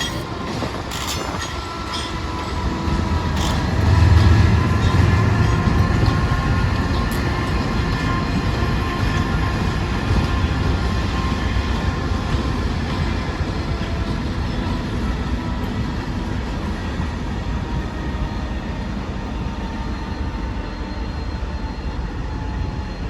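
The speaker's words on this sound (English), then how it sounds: "you can still hear the Canadian Pacific train's DPU chugging up in the background" A Canadian Pacific freight train's DPU locomotive chugs at a distance beside a rail yard, a steady low rumble with faint rail clatter that swells briefly and then holds even throughout.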